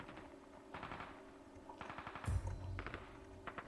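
Bursts of automatic gunfire in the survival shooter Ring of Elysium, several rapid volleys at moderate distance with a louder, heavier burst near the middle.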